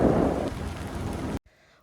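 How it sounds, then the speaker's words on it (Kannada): Heavy rain in a dense forest at Karkala, a brief loud wash of rain noise that stops suddenly, leaving near silence. "ಭಾರಿ ಮಳೆ ಮಾರ್ರೆ ಕಾರ್ಕಳದಲ್ಲಿ."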